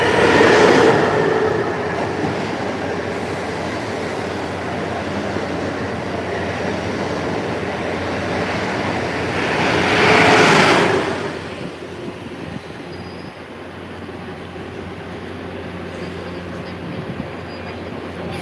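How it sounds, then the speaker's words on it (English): MBTA subway train pulling in at rush hour, a loud broadband rumble and rail noise swelling to a peak as the cars pass close by, then easing to a lower steady roll. "Yep, there's another train coming."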